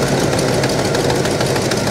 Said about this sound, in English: She's got a slight exhaust leak